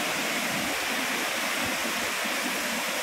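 Bolinao Falls thunders with a strong, powerful flow of water, a dense, unbroken roar of crashing water that fills the scene close by with no voices.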